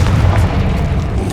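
A Confringo fire blast spell explodes in Hogwarts Legacy as a loud, deep, rumbling boom that fills the moment up close, with no talk over it.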